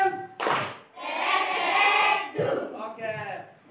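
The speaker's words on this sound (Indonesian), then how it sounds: "berikan tepuk Superman" Primary school class in Indonesia doing a rhythmic group clapping chant, sharp bursts of many hands mixed with children's shouted voices, loud and close with short pauses between.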